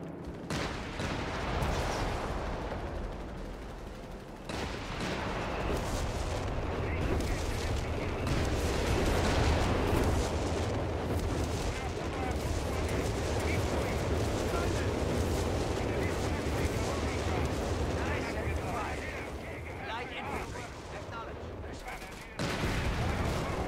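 Artillery strike in Company of Heroes 3, a World War II strategy game: a dense, sustained barrage of booming blasts and crackling gunfire rumbles loudly throughout, with soldiers' voices talking over the battle.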